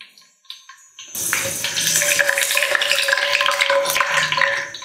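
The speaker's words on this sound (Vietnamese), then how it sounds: "Mình sẽ chiên sơ qua cho nó ra cái mùi thơm rồi mình vớt ra." Cilantro roots frying in hot cooking oil for fried pork with fish sauce: after a second of near quiet, a steady, close, loud sizzle with crackling bursts sets in and holds to the end.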